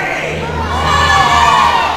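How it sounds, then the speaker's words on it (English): Guests at a Disney event scream out their names all at once, a loud, dense wall of overlapping shouts and cheers from a large indoor crowd lasting the full two seconds. "on the count of three, I want you to scream out your name"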